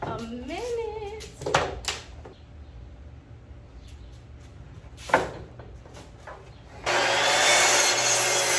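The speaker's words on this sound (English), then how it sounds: "And then now I'm gonna cut all of these slats." A few knocks and wooden clatters, then a loud, steady power tool starts up cutting wood slats and runs continuously near the end.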